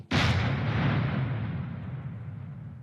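A tank cannon fires once in Minecraft, a single loud sudden boom that decays slowly into a long rumbling tail.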